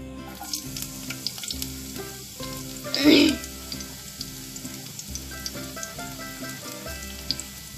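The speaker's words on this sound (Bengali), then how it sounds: "কুচি করা পেঁয়াজগুলো অল্প ভেজে নেব।" Chopped onions frying in oil, a steady close sizzle with a brief louder burst of hissing near the middle, while a faint tune plays softly in the background.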